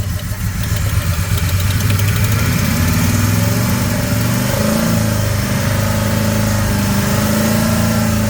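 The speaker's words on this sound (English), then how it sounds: "Rev it again." A Ford F-150 engine, worked on after a wreck and with a suspect cylinder, runs loud and close throughout, holding a rough, steady drone with no speech over it.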